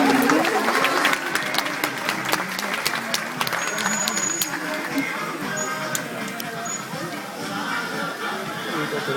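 Sustained applause from a crowd at a zoo, dense steady clapping held for several seconds with chatter and voices mixed in beneath it.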